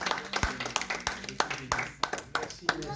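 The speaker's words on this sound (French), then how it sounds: "on peut applaudir." A church congregation claps, sparse distinct handclaps in an irregular rhythm rather than a full ovation, with voices faintly audible beneath.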